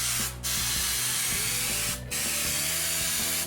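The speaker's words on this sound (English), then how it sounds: "I use high strength 90 3M spray adhesive." An aerosol can of 3M high strength 90 spray adhesive hisses in two long, loud sprays onto a Pumaboard top, each broken by a short pause, with a faint mechanical hum underneath.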